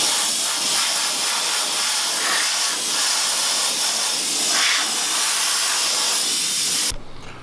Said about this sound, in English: Now we're going to take it and blow it dry it with the air compressor.